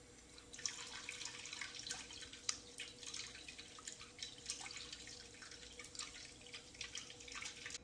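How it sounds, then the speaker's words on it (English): Organic quinoa being rinsed in water, with soft continuous splashing and trickling from a tap or bowl, close and fairly quiet, no talking. "I also got organic quinoa in the market. So let me wash it"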